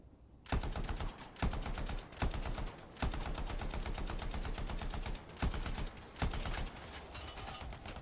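Rapid automatic gunfire from the video game Anthem, loud and close, in sustained bursts broken by a few brief pauses over the whole stretch.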